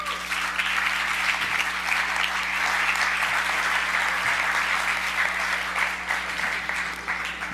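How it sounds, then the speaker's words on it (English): Sustained audience applause at a conference welcoming a team member, dense and even, steady hand-clapping from a large crowd at constant loudness with a faint low hum beneath. "Give an applause, please."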